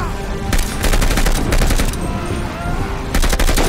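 Bursts of automatic gunfire from the World War II shooter Call of Duty: Vanguard, loud and close, firing in several rapid volleys separated by short pauses.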